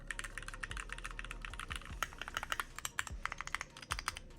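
Keystrokes on a Keychron Q4 mechanical keyboard, a steady run of crisp, close clicks and clacks at a brisk typing pace, with a few heavier bottoming-out thuds, heard alone in a quiet room.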